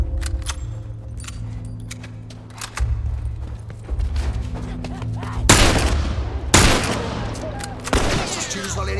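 Gunfire in The Last of Us gameplay: several sharp, loud shots burst out over a low droning game soundscape, with a couple of heavier blasts clustered in the second half.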